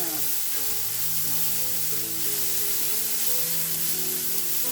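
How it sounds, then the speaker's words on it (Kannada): Onions frying in a pan until reddish make a constant, dense sizzle that holds steady throughout, with soft background music underneath. "ಈರುಳ್ಳಿನ ಸ್ವಲ್ಪ ಕೆಂಪಾಗಬೇಕಲ್ಲ ಸ್ವಲ್ಪ ಕೆಂಪಾಗೋ ತನಕ ಹುಡ್ಕೋತೀನಿ"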